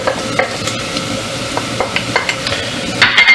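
Smoky paprika and cumin stirred into a hot pan for beans, with a quiet sizzle under repeated scraping and stirring strokes and a few sharper clinks near the end; no talking.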